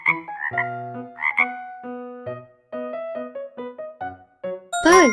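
Frog croaks mixed with bright tinkling chimes in a bouncy rhythm, with a final loud, close croak standing out at the end.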